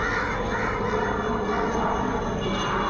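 A steady helicopter drone fills the background overhead, continuous and fairly distant, with a faint bird call at one point.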